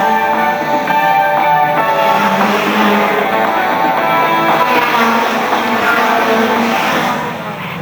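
Stock cars racing at Arlington Stadium, a dense, loud, continuous roar of several engines droning and shifting pitch together across the whole stretch, easing slightly at the very end.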